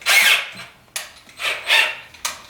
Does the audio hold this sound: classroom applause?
no